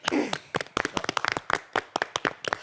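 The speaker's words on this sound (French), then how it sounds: "Moi, j'ai tout simplement envie de l'applaudir." Hands clap in a quick, irregular run of sharp, distinct slaps, a handful of people close by rather than a big crowd, loud and dry for under three seconds.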